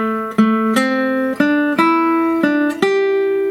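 A guitar picks out the melody of the sea shanty Banks of Newfoundland, single plucked notes in a lilting 6/8 rhythm, each ringing clearly before the next, close and alone.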